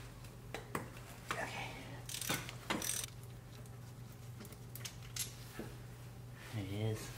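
A 12 mm wrench breaks loose a bolt on a Toyota Camry engine during head gasket work, with several close metallic clanks and scrapes over a low steady hum while a person talks.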